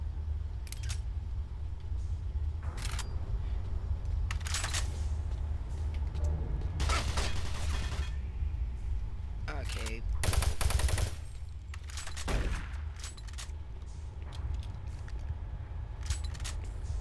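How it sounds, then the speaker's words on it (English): Gunfire and weapon reloads from the video game Doom 3 sound as bursts of shots and clattering metallic reload clicks. They come over a rumbling game background, fairly quiet overall, with a louder flurry partway through. "really gratuitous reloads"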